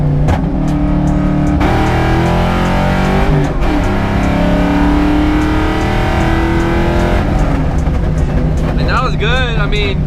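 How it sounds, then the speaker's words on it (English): A car engine pulls hard at wide open throttle in the cabin, a loud, continuous droning roar that breaks for gear shifts, while people talk and shout over it. "We're gonna hit a little WOT real quick, but downshift to third."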